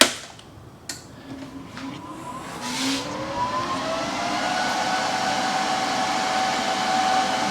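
A 220/240-volt welder clicks on with a couple of sharp switch clacks, then its fan and transformer spin up into a steady, rising whir and hum that holds close and loud.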